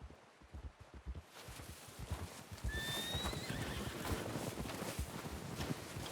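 A horse in the video game Red Dead Redemption 2 gives a short high whinny amid steady clip-clop of hooves and outdoor rustling; no talking.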